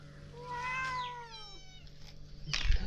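A cat lets out two drawn-out, rising and falling meows close by, followed by a short rustle at the end; no one speaks.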